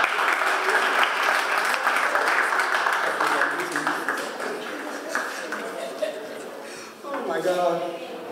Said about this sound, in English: So please, can we give a round of applause for Bishop Tony Branch?